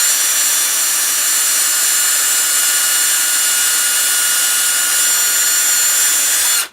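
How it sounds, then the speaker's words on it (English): Power drill fitted with a 1/16 bit boring a hole in an RC crawler shock tower: a steady, loud high-pitched whine held for several seconds, close up, stopping abruptly at the end, with no talking. "get your power drill, and you take a 1/16 drill, and you find a spot on the shock tower"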